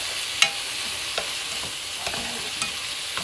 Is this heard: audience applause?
no